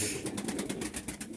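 Soft pigeon cooing with a low murmuring rumble, steady and close, no voices.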